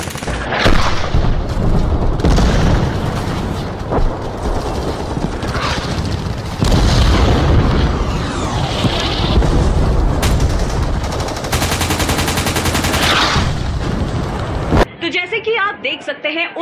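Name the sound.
heavy gunfire and artillery shelling, Kargil war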